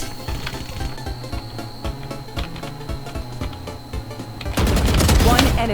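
Rapid bursts of gunfire from the tactical shooter game Valorant, repeated shots patter steadily, then a louder, denser volley erupts near the end, with a player's voice faintly in the mix.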